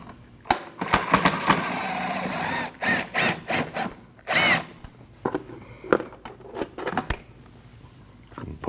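A power tool whirs in short bursts of varying length with brief pauses between them, removing a 10mm bolt under a side panel on a 2013-2019 Ford Escape. Close, loud, and no one speaks.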